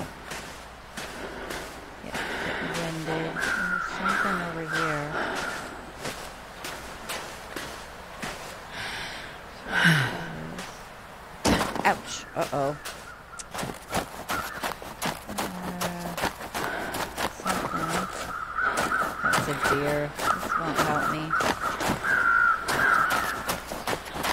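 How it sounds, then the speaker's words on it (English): Crows cawing in the snowy wilderness of the survival game The Long Dark, several harsh calls repeating at intervals over a steady wind-like background, fairly close and clear. "birds."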